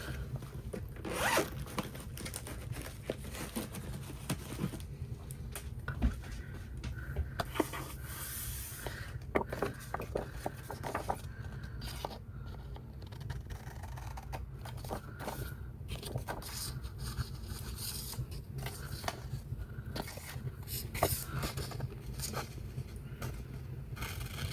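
Scissors cut away extra planner paper, a dense run of quick rasping snips and scrapes close by that continues without pause, with no talking.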